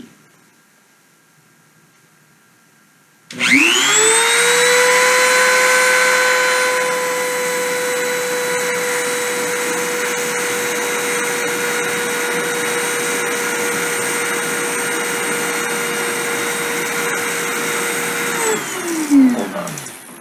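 A CNC spindle starts abruptly and runs up to 30,000 RPM, a loud, steady high-pitched whine with layered tones that holds for about fifteen seconds before winding down.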